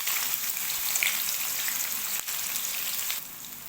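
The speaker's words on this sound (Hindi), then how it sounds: "प्याज को हमने लाइट ब्राउन होने तक फ्राई कर लेना है।" Chopped onions fry in hot oil in a kadai for aloo palak, giving a dense, steady sizzle with crackling pops, close and continuous with no talking.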